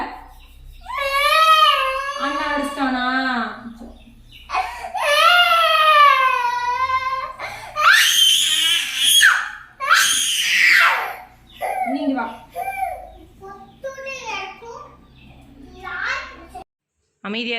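A young girl cries and screams in loud, drawn-out wails at home, with breaks between outbursts and softer sobbing toward the end.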